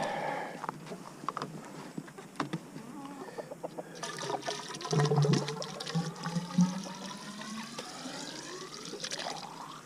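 Water rushes and gurgles steadily into a chicken waterer, a continuous pouring and filling sound close by, with faint hen clucks mixed in.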